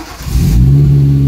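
A Geo Metro fitted with a forged turbo engine cranks and catches, then settles into a loud, steady, close-up idle and rev with no voices.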